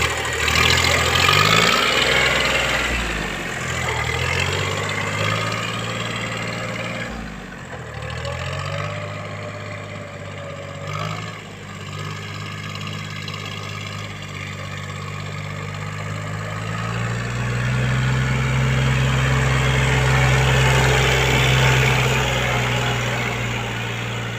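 A used Japanese tractor engine starts up and runs, giving a continuous low mechanical drone and idle that shifts in pitch and loudness a few times, heard close and alone.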